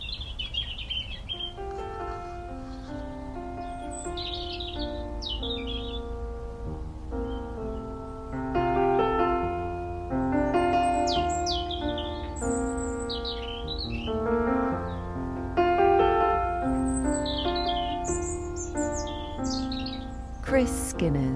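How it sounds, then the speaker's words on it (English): Roosting pheasants call in woodland at dusk, with tweets and chirps rising over the soft, steady hum of the countryside. Several birds call in turn, some near and others farther off. "we'll be able to listen to roosting pheasants"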